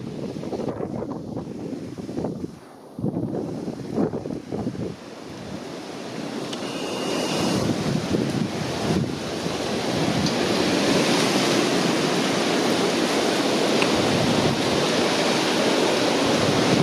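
Strong storm wind gusting in the open and roaring steadily, buffeting the microphone with heavy rumbling noise that grows louder and more constant toward the end.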